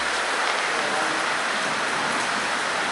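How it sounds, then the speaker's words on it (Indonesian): Heavy rain pours down steadily, a dense, loud hiss of drops hitting surfaces that holds unbroken for the whole stretch with no voices over it. "Hujan deras ya. Hujan deras sekali."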